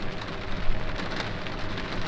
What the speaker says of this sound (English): hopefully the rain does stop in an hour